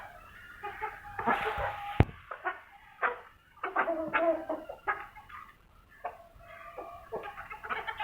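Hens and a large rooster cluck in irregular bursts of short calls close by, with a brief loud knock partway through and no talking over them.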